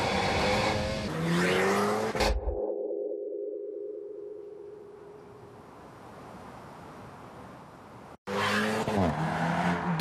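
An Alpine sports coupé, 1080 kg with a 252-horsepower mid-rear engine and rear-wheel drive, roars loudly as it accelerates, fades into a lingering whine, then bursts back in at full engine volume.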